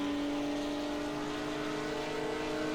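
Race car engine heard on board at Spa-Francorchamps in iRacing, during a 24-hour endurance race approaching Eau Rouge, giving a steady loud high drone at near-constant revs throughout, with no talk.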